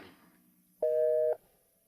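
A telephone busy signal sounds once as a short steady electronic tone, clear and close, between quieter stretches of line hiss.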